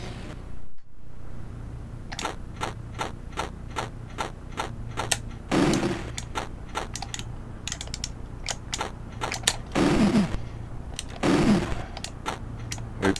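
Rapid, evenly spaced gunshots from an Atari ST video game, sharp clicking reports firing in steady runs over a buzzy background of game music, with a few louder bursts standing out.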